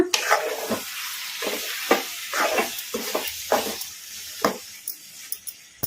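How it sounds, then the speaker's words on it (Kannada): Chicken tossed with masala powder frying on a medium flame in a pan, with a steady close sizzle broken by repeated scraping stirring strokes at an uneven rhythm, no voices. "ಇದನ್ನೆಲ್ಲ ಮೀಡಿಯಂ ಫ್ಲೇಮಲ್ಲಿ ಫ್ರೈ ಮಾಡ್ಕೋಬೇಕು"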